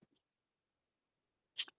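A single sharp sneeze bursts out near the end, close and fairly loud after a long quiet stretch, with faint breathy vocal sounds just before it.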